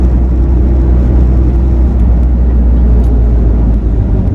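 A 2000 Jeep Cherokee XJ with the VM diesel engine accelerates, giving a loud, steady low engine drone with a broadband roar that holds for several seconds, heard from close by with no voices.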